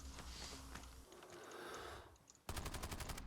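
A player's gunfire in the Warzone battle royale video game: a dense, loud burst of rapid automatic shots near the end, after a short stretch of muffled game noise.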